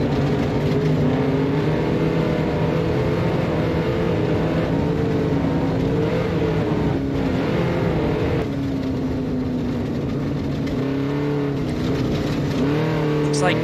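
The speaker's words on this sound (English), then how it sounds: "We're going to let you guys listen to some of the same car audio with Ben Williams." A race car engine heard from onboard during a 500-lap race at Parker Dam, a steady loud drone with shifting pitch as it revs up and down, continuous throughout.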